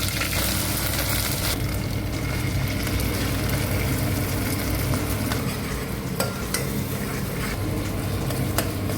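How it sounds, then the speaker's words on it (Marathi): Chole masala frying in a pan over low heat: a steady, dense sizzle and crackle runs throughout with occasional scraping stirs, close and fairly loud, with no talking. "मसाला टाकल्यानंतर मंद आचेवर याला 7 मिनिट परतून घ्यायचं"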